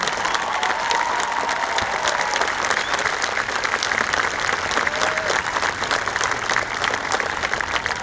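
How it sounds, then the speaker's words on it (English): Audience applause at a 2019 graduation ceremony, a dense, continuous wash of clapping from a large crowd held at an even level throughout. "Round of applause for Mr."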